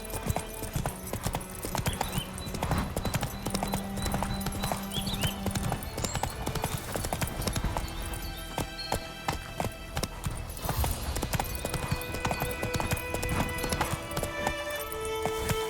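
Galloping horse from The Witcher 3, a fast, continuous drumming of hooves, close and loud, mixed with game music and ambience.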